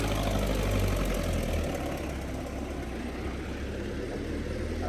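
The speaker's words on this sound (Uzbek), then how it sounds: "Motor holatlari ham juda ham tekis holatda ishlab turibdi." A Belarus 82.1 tractor's diesel engine idles steadily with a low, even rumble and slight knock, close and moderately loud with no voices.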